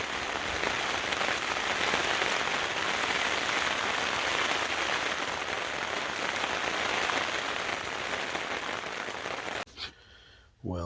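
Steady rain drumming on a hiker's tent along the Continental Divide Trail, a dense close patter that holds evenly for about ten seconds before cutting off abruptly.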